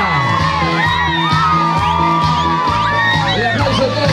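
A festival crowd at the first Fiesta del Obrero de la Fruta in Parada Labougle cheers and whoops loudly for a festival queen contestant. Excited shouts rise and fall continuously over music, with some voices calling out.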